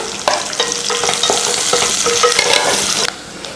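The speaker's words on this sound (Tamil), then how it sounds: "வெங்காயத்தை ஓரளவுக்கு வதக்கியாச்சு" Finely chopped onion sautéing in a pan with crushed ginger and garlic, a loud, close sizzle with repeated scraping and clinking stir strokes that stops abruptly near the end, with no talking.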